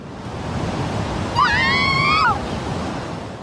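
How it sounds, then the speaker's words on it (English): Stormy wind and ocean waves from a video game form a steady broadband roar throughout, with a rising and falling whistling gust tone in the middle. "A poorly timed gust of wind blew in, getting the girls all worked up again."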